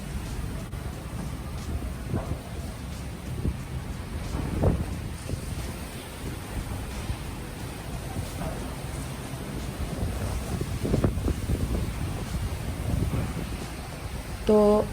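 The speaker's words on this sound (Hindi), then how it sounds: "कितनी आवाज़ के साथ यहाँ पे बारिश हो रही है।" Heavy rain pours with gusting wind at a balcony in Delhi, a steady loud broadband wash with buffeting wind rumble close to the microphone throughout.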